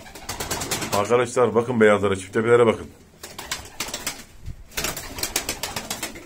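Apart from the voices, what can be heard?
pigeons cooing and flapping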